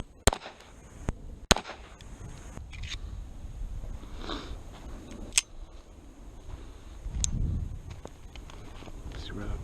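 A 1911 pistol with a flat trigger fires at a target about 10 yards away, a few sharp, loud cracks spaced irregularly across the span, with quiet room sound and some low talk between them.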